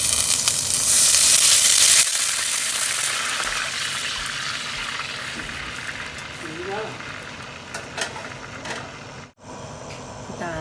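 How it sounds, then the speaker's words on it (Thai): Loud sizzling erupts as water is poured onto golden fried garlic in a hot pan, then settles into a steady, softer hiss and bubbling close by. "กระเทียมเหลืองแล้วนะคะใส่น้ำค่ะ"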